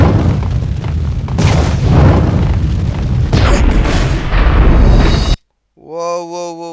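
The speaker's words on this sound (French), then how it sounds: "C'est quoi ce bordel là, cette maison kamikaze où tout explose?" Booming explosions tear through a burning house in the video game Max Payne, a dense loud rumble of blasts and debris lasting several seconds, then cutting off to a short musical tone.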